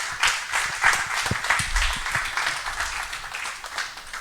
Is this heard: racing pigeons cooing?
no